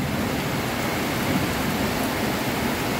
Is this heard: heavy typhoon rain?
yes